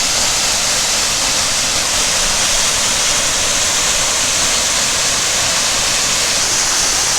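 Toquerville Falls near Zion thunders as a loud, steady waterfall roar, close by and unbroken, with no voices over the constant rush of falling water.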